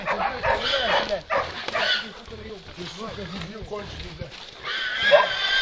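A hunting Laika dog barks and yelps excitedly in short bursts during hunting training, mixed with people talking and calling out nearby.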